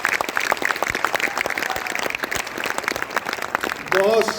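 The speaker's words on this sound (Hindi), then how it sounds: "एक बार पूरा सदन भरपूर तालियां बजा दीजिए बहुत अच्छी गजल के लिए।" Audience applause after a ghazal at a Holi poetry gathering, quick scattered claps forming a lively patter, with a voice speaking over the end.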